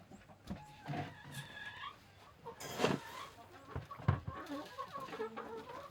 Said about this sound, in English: Good morning, chicken.